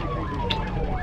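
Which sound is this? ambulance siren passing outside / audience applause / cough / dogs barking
ambulance siren passing outside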